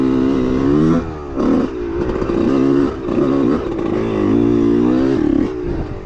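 Two-stroke dirt bike engine with a rebuilt top end, loud and close, revving up and down at shifting throttle in repeated surges and dips with no talk.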